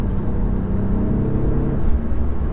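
A 2019 Audi S3 saloon with a 2-litre four-cylinder petrol engine and particulate filter, heard from inside while driving as a steady low drone and rumble with slight rises in revs.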